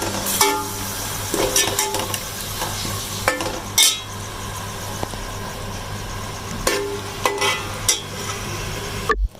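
Beef keema fries in a pan with ginger and garlic, a steady sizzle broken by several sharp scraping and stirring clatters of a utensil against the pan.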